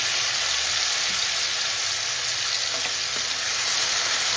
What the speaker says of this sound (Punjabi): ਕੜਛੀ ਦੀ ਸਹਾਇਤਾ ਨਾਲ ਇਹਨੂੰ ਹਿਲਾ ਕੇ ਥੋੜਾ ਜਿਹਾ ਬਰਾਊਨ ਕਰਾਂਗੇ